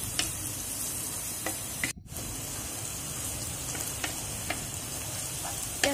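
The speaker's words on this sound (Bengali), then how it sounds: "আবারও নেড়ে চেড়ে দিচ্ছি। ভালো মতো নেড়ে চেড়ে নিব।" Onions frying in a pan for a Bangladeshi fish dopeyaja are stirred. A constant close sizzle runs throughout, broken by a few light spatula taps and a brief scrape.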